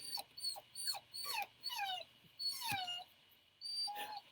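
A pet dog gives a run of high, excited whimpers and yelps, roughly a dozen short rising-and-falling cries in quick bursts, close by with a faint low hum underneath and no talking.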